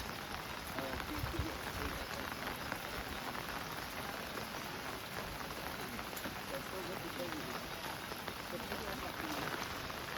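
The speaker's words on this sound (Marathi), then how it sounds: "पाऊस पडतोय सर जसा जसा पाऊस पडतोय" Steady rain pours down across the whole stretch, a dense even hiss with no pauses, fairly close and moderately loud.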